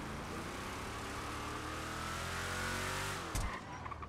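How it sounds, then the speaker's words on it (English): A truck engine in a roleplay driving video game drones with a deep, steady rumble and a rising whine that dips at the end, followed by a short clatter, with no talking over it. "This truck sounds badass."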